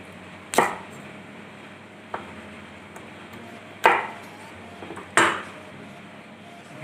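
A knife cutting the still-soft seed out of a raw green mango sounds as four sharp, sparse knocks on a cutting board, spaced seconds apart in a quiet kitchen with no voices.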